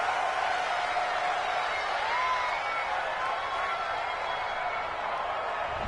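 The home crowd in a PS4 video football game roars after a referee's flag call, a dense, steady crowd noise that holds at an even level for several seconds.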